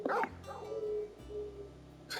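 A dog in Final Fantasy XVI gives a short, loud burst of barking and whimpering yips, heard close and alone.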